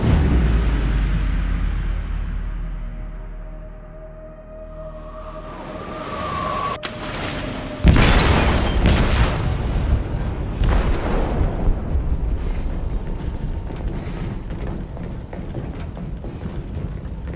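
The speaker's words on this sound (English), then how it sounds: "They detonated an explosive in the hold." Explosion in a ship's hold in Detroit: Become Human: a low rumble that fades, a rising whine, then a sudden heavy boom at about eight seconds with crashing debris and a long, rolling aftermath of rumbles and clanks.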